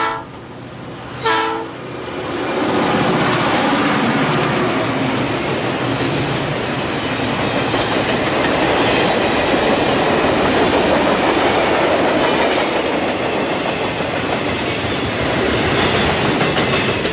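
Norfolk Southern freight train on the Saluda Grade in North Carolina: a short horn blast, then a loud, sustained rumble of wagons rolling past nearby with faint clickety-clack, alone without voices.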